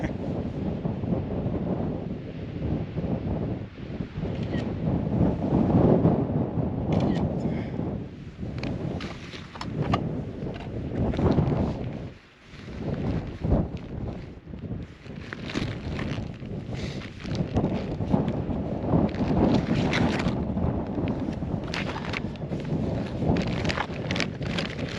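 Strong gusting wind on a mountainside buffets the microphone in a loud, continuous roar with surging swells and one brief lull midway, no voices.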